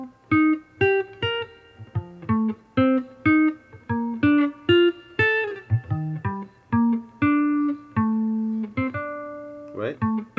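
A jazz solo line built from arpeggios of the basic chord, a single melodic instrument playing quick separated notes in uneven phrases, fairly close and clear, alone without talk for about ten seconds.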